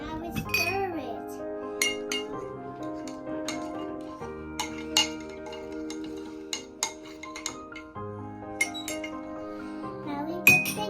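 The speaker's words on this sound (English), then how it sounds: "Now we stir it." A spoon stirs hot chocolate with marshmallows in a mug, giving repeated bright clinks against the mug while a voice carries on nearby.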